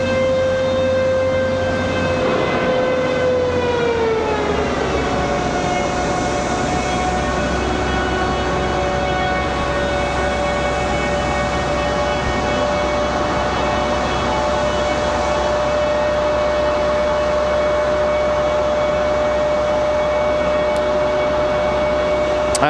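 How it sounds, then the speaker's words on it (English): At Raleigh-Durham International Airport in the snow, a ground power unit works to fire up a CRJ jet. Its loud whining tone slides down in pitch early on, then settles into a steady drone to the end. "what you guys are hearing is that box trying to fire up the CRJ"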